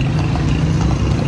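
Horse hooves clopping steadily as the animal pulls a tanga carriage along a road in Peshawar, a continuous rhythmic clatter under broad street and traffic noise.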